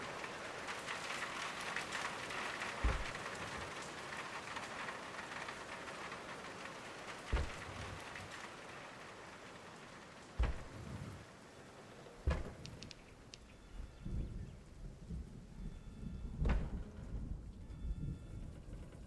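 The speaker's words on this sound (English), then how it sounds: "The storm is starting to pass." Steady rain pours throughout a storm in the dinosaur park game Jurassic World Evolution 2, with several sharp thunder cracks and rumbles breaking through at intervals; no one speaks.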